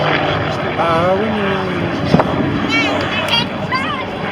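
A vintage Vought Corsair piston-engine aircraft roars past at a French aerobatics world championship air show, its propeller drone rising and falling in pitch as it flies by, mixed with crowd ambience and a commentator speaking over it.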